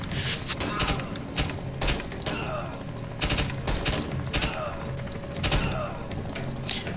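Rapid bursts of gunfire in the tactical shooter Door Kickers 2, sharp overlapping shots in clusters of volleys with short gaps, loud and close, under occasional talk.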